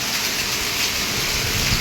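Heavy monsoon rain pouring in Mumbai, a dense, steady hiss with no pauses, loud and close, with no voices.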